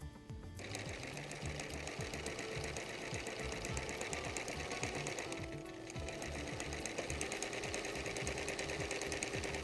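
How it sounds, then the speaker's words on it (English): Sewing machine stitching bias binding onto a quilt, a fast steady mechanical chatter running continuously and fairly close, with a brief change in tone midway. "I'm going to stop sewing 1/4 of an inch from the corner."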